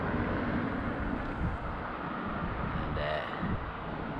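Strong wind buffeting a microphone on a windy, sunny day near a castle, a steady loud roar of gusts with faint background noise throughout.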